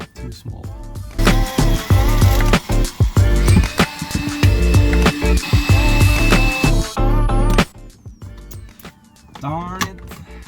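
A power drill widens a hole on a sailboat for an automatic bilge pump switch, a close, loud whining motor with repeated short bursts and grinding bites, stopping briefly before a final short spin.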